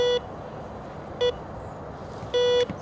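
A metal detector sweeping over ground gives three short electronic beeps at uneven intervals, the last one longer, against a low outdoor background with no talk.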